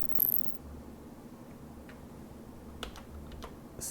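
Computer keyboard keys are pressed during 3D modeling work, a few sparse faint clicks and taps over a quiet room hum, with no voice present.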